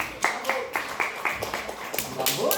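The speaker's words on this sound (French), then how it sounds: "Applaudissez aussi la technique pour le très bon travail qu'ils font ce soir." Concert audience claps for the technical crew during a live French show, a brisk run of distinct claps that thickens into fuller applause toward the end, with a voice faintly underneath.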